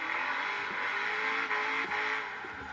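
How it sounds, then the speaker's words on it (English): Car engine from the Forza racing game, driven with a steering wheel while drifting around a parking lot, holding a steady revving drone with shifting pitch and faint tire squeal throughout, with no talking. "I've just been sitting here drifting around in this parking lot"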